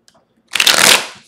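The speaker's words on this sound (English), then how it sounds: "I want to shuffle one more time" Tarot cards being riffle-shuffled, one brisk burst of papery flutter that lasts about half a second, close and fairly loud, after a brief quiet moment.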